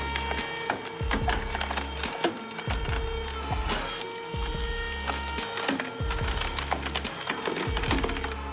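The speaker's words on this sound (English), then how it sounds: "homemade wood splitter is something else. It's handling 2-foot logs and slicing them into a dozen perfect pieces like it's nothing." A homemade wood splitter slices two-foot firewood logs into pieces with a steady mechanical drone and repeated cracking, splintering splits about once a second, close and loud throughout.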